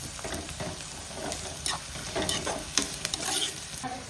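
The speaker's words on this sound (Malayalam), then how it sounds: "നമ്മളിപ്പം ബിരിയാണിക്ക് പൊരിച്ചിടാൻ വേണ്ടിയുള്ള സവാളയാണ് വറുക്കുന്നത്." Two sliced onions sizzle and crackle in a hot pan as they fry for chicken biryani, a steady close sizzle broken by brief scrapes of stirring.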